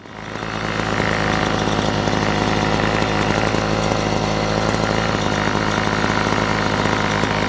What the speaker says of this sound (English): Yay, the motor runs.